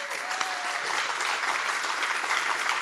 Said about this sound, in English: That round of applause is for all of our speakers